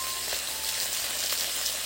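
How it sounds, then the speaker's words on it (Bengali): Small fish fry in a pan with an even, close, continuous hiss of spitting oil and scattered tiny pops, with no voices. "মাছ ভাজা হয়ে গেছে, এবার তুলে নেওয়া হচ্ছে"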